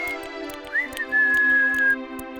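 Cartoon tin man whistling over background music, a short rising note then a long steady sustained tone, moderately loud with no talking.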